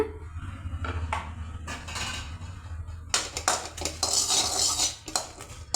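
A metal spoon scrapes and clanks against a hot pan, moving fried mustard seeds into another vessel while making thoodhuvalai rasam powder, loud and close with bursts of rattling scrapes and no talk.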